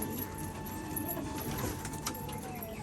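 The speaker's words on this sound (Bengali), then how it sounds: "তো সেই পায়রা দুটো কিন্তু এখন বের করা হচ্ছে" Pigeons kept at a pigeon farm in Rajshahi coo softly in a few low, faint calls over steady background noise.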